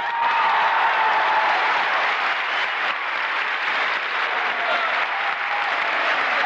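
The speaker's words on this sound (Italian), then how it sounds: "Un diluvio di applausi a Cannes per Paris, Texas" A packed Cannes Film Festival audience gives a sustained ovation for Paris, Texas, a thick, roaring wall of clapping that holds at full strength throughout without a break.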